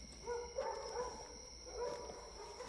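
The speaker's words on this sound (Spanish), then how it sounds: "¿Son perros?" Dogs bark in the distance from a wooded ravine, a few faint, muffled yelps in two short bursts over a steady background hiss.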